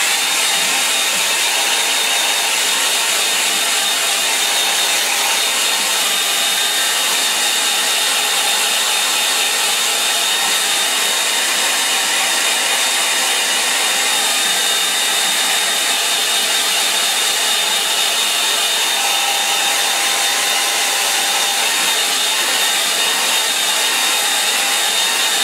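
Hair dryer blowing on a watercolour line-and-wash painting gives a loud, constant airy roar that runs unbroken and steady the whole time, with no other sounds.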